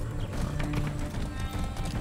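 Fast rhythmic hoofbeats of a galloping horse in Far Cry 6, close and continuous over a low rumble, no speech.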